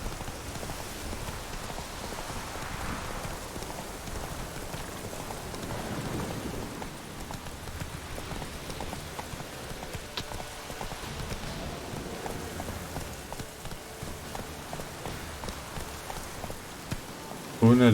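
Steady rain falls in The Witcher 3 game world as a dense, even hiss that runs throughout. A soft low rumble of thunder rises in the middle, and there is no talking.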